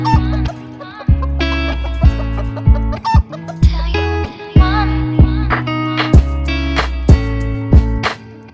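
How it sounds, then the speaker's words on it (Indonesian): Chickens cluck repeatedly in close, loud bursts, an irregular run of sharp calls with fowl chatter in between. "Contoh dari hewan yang bertelur adalah ayam."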